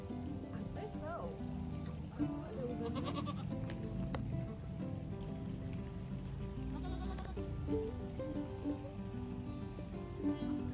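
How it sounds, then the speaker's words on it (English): Several goats bleat on a farm, overlapping calls rising over a steady background patter, with people talking nearby throughout. "as promised, I came over for you to see the goats"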